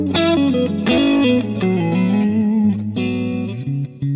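An electric guitar played with a slightly gritty, lightly overdriven clean tone, sustained chords and single notes ringing with effects, loud and close with no talking.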